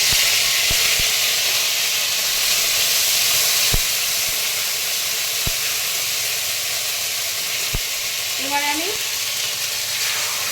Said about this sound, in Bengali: এবারে একটু আদা বাটা দিলাম তেলের উপরে